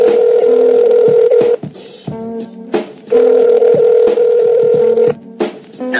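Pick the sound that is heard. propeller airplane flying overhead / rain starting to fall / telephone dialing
telephone dialing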